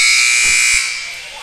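Loud electronic buzzer ending the half at a girls' high school basketball game, Paragould Lady Rams at Wynne Lady Yellowjackets in 2012, sounding as one sustained blare that fades slightly toward the end amid gym noise.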